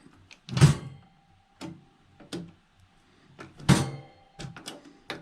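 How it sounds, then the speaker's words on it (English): The loose inside grate of a copper Pit Boss Portable Tabletop Pellet Grill clanks and thunks about during assembly, giving irregular hollow metallic knocks, a couple louder than the rest, with quiet gaps between. "That is just the inside grate banging around, which I should have taken out"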